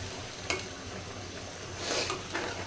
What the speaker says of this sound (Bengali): এখন মশলাটা একটু ভালো করে কষানো হোক।